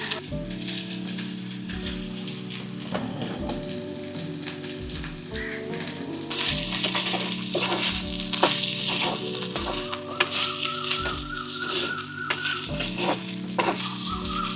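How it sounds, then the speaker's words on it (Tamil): Chopped onions and green chilies fry in hot oil, a continuous close sizzle with crackling pops and occasional stirring knocks, no talk. "இந்த எண்ணெய்க்குள்ள வெட்டின வெங்காயத்தையும் பச்சை மிளகாவையும் போட்டுவோம்."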